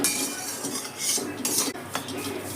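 Vermicelli fries in a pan as a utensil stirs and taps against the metal, giving bright clinks and scrapes over a faint background of frying, with no talk.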